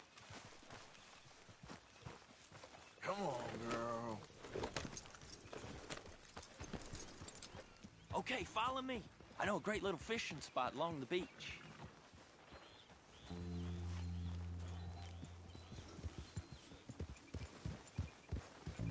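Horse hooves clip-clop along a beach path in Red Dead Redemption 2, a steady walking rhythm running beneath someone talking to his horse, with a horse snort or whinny near the end.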